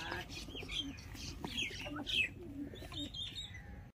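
Soft, low pigeon coos and a few chirps sound close by in a quiet space, with brief murmured voices.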